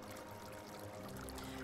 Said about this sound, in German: Dann können wir hier noch weiter das Wasser aufdrehen.